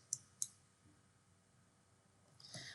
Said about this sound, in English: We will click on the run test.